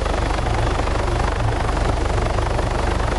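Helicopter in the video game Arma 3 descending to land, a steady loud rotor thump and engine drone filling the whole stretch without pause.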